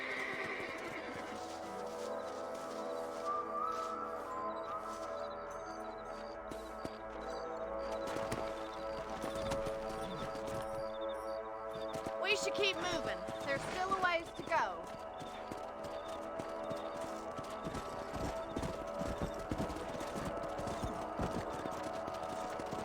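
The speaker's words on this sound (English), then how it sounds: "Let's get back on the horses and see what else is going on." Horses in the Red Dead Redemption video game whinny and clop along at a steady pace, hooves and snorts moderately close beneath game music while someone speaks briefly.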